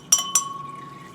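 Water rinsing through laboratory glassware, a burette and a pipette bulb, with two quick glassy clinks close by followed by a faint steady trickle.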